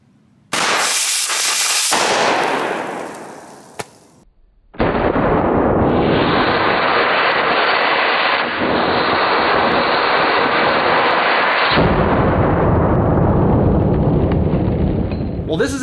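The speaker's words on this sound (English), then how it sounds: "when our BB hits the 50 cal primer, it sits there and burns for a few seconds before it goes off" A .50 caliber rifle primer struck by a BB burns with a loud hissing, crackling roar for several seconds, then a sharp report, followed by a long, steady, loud burning rush with no talk.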